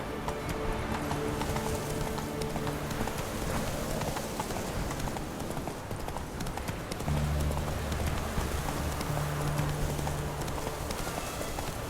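Roach the horse gallops in The Witcher 3 game, a steady rhythmic clip-clop of hooves over a soft rain-like wash, with a few tonal whinny-like sounds appearing faintly toward the end.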